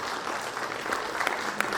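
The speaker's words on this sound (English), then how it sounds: "Would like to invite sir on the stage with a round of applause, everybody." An audience at an HR-EHS conference in Vadodara claps steadily to welcome a speaker onto the stage, a moderate roomful of hands with a few sharper claps standing out near the end.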